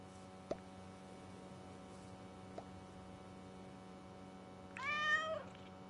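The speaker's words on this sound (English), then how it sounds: "Is that a cat?" A cat meows once in a video game, a clear mid-pitched call near the end after a couple of soft clicks over a steady low hum.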